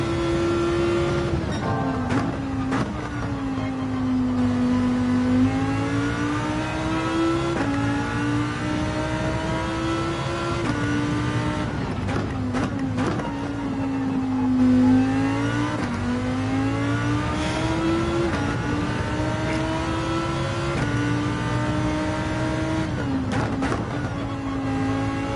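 Race car engine in Gran Turismo 7 revs up and down through the gears over a long lap, a loud continuous mechanical drone with rising and falling pitch and brief dips at shifts.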